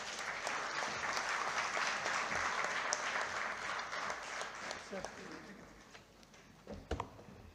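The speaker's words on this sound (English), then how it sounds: "please welcome them with a huge round of applause" A conference audience applauds steadily with dense, sustained clapping that gradually thins and fades toward the end.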